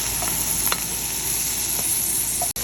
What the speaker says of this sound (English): So we're going to saute the onions. So now I'm adding the carrots